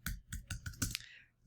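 Quick keyboard typing, a handful of sharp key clicks in an uneven burst, close and fairly quiet, with no one speaking.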